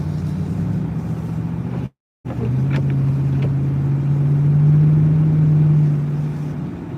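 A plow truck in a winter snowstorm with wheels spinning, its engine droning loudly and steadily and rising in pitch as it revs, a brief dropout early on.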